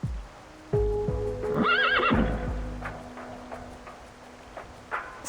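Striped horses neigh in the Reverse: 1999 game, with a clear, close whinny near the start followed by softer clip-clop and light ticking sounds, with no talk.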